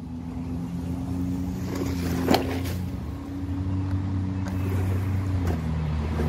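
Kolegend 1/10 scale RC buggy driving outdoors at night, its electric motor giving a steady, fairly faint whine that shifts pitch as it speeds and slows, with a brief clunk midway.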